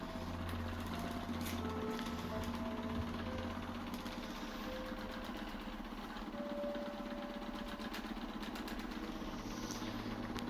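A Power Relaxer foot massager runs with a steady, continuous mechanical hum and buzz, constant in level throughout, with faint whirring tones drifting above it and no talking.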